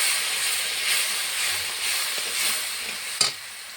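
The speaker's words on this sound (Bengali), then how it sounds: "মশলার মধ্যে একটু বাটি দিয়ে জল দিয়ে দেব, ভালো করে কষানো হবে মশলাটা।" Spice paste with turmeric and salt fries in a pan after a splash of water, giving a steady hissing sizzle with soft stirring scrapes and a sharp clack near the end, no one talking.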